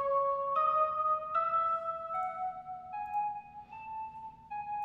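A synthesized bell made in FL Studio plays a slow stepwise melody, bright sustained tones each ringing into the next, steady and fairly loud with no voices.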